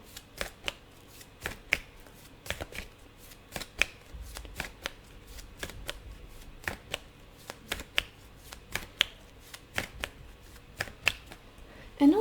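Oracle cards being shuffled by hand, a steady run of sharp riffling clicks and slaps repeating through the whole stretch, close up and alone with no voice.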